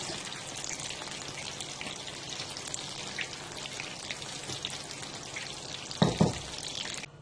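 Green onion and cabbage pakoras frying in oil, a steady crackling sizzle throughout with a couple of louder pops near the end, close and alone.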